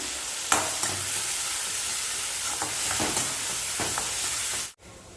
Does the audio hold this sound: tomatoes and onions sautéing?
yes